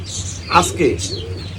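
A pair of pigeons coos in short, soft, close calls over a faint background hum.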